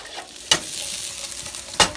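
Potatoes sizzle in butter in a pan while being stirred, a steady frying hiss broken by two sharp scraping stirs.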